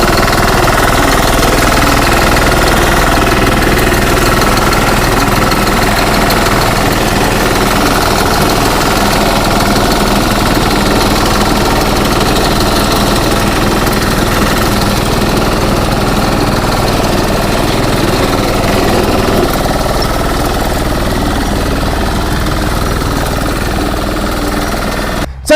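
A reaper machine cutting a wheat crop runs continuously for the whole stretch, a loud close engine chug with a rapid knocking rattle, steady throughout with no voices.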